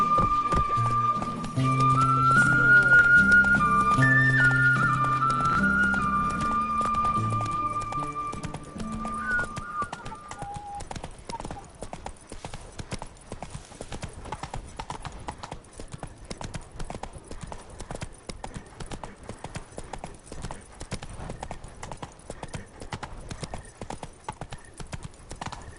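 Horse hooves clip-clop in a fast, even rhythm in The Witcher, close and loud, with music and tonal game sounds over the first ten seconds before the hoofbeats continue alone.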